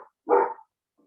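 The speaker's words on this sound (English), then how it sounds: "Sorry, you'll have to excuse if you can hear my dog barking." A puppy barks once, short and sharp, in a quiet indoor home kitchen, clear and fairly close, with only faint traces of sound around it.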